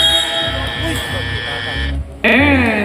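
A loud, harmonic electronic buzzer marks the end of the second quarter at an amateur basketball game, Naproxen vs Drivemax. It sounds near the end, over court noise and commentary.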